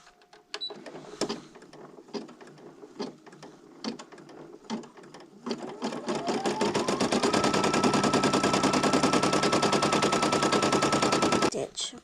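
An embroidery sewing machine stitches Elsa's hair outline onto a hooded towel, first a few scattered clicks and taps, then a loud, fast, steady mechanical chatter with a rising whine that runs for several seconds before stopping.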